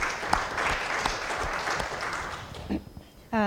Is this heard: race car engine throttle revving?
no